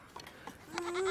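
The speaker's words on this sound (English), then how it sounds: "Baby goat." A baby goat bleats once, a short rising cry near and fairly loud, after a few faint shuffling sounds.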